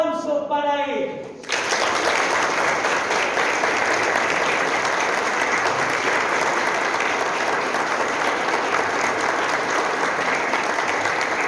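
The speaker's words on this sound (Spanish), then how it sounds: "a Jonathan y a Sofía con la alegría expresada en un aplauso para ellos" A congregation at a Sunday Catholic Mass breaks into sustained, dense applause that fills the church after a voice speaks briefly at the start, then carries on evenly to the end.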